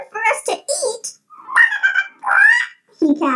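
A voice imitates a rooster cackling in a short children's story: a series of loud, choppy honking squawks with brief pauses between them.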